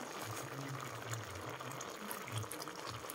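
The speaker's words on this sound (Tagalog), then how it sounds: "Tapos ganyan na kumukulo, yan, makunti-kunti na yung tubig niya" A pot of dinengdeng, a vegetable stew with winged beans and moringa leaves, simmers on the stove, giving a faint, steady bubbling and hissing with the water reduced low.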